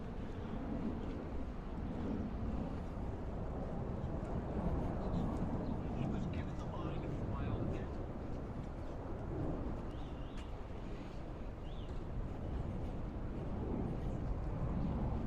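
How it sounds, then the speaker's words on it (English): A plane takes off near Northern Boulevard in a Queens neighborhood, a steady broad roar that stays loud throughout, mixed with wind buffeting the microphone outdoors. "See a plane taking off right there in front of us."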